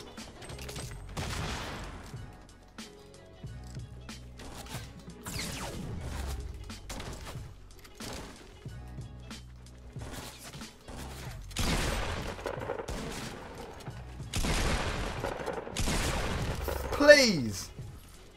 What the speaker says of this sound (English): I'm so done with getting shot at right now.